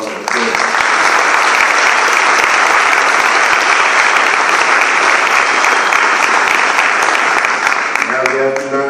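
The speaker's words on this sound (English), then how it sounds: "give Mr. Tennant another round of applause" Large audience at a political party's founders day event applauding a Mr. Tennant, dense sustained clapping that fills the room loudly and evenly before fading at the end.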